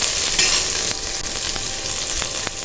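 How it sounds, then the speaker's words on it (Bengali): Capsicum rings fry briefly in a pan, giving a bright continuous sizzle with a few quick stirring clicks, close and steady, with no voices. "জাস্ট অল্প একটু ভেজে নেব।"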